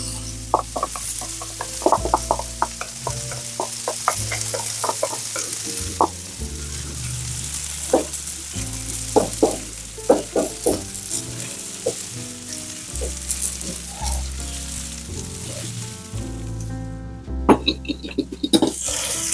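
Onion hits a paella pan alongside lamb chops, raising a loud, dense close sizzle broken by scraping stirs and clatter, with a brief cleaner stretch toward the end.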